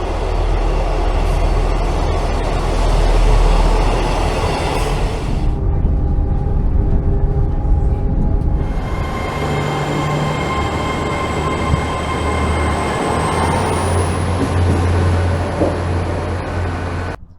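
A passenger train rolls out of Oldfield Park station in Bath in the early morning, its steady loud rumble and rattle carrying on throughout, a rising whine building near the end.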